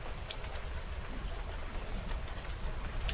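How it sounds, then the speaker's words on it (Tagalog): Steady rainfall hisses continuously, a dense even patter with no voices over it. "Ay, umuulan."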